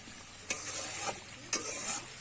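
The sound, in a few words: tangra fish simmering in spicy oil curry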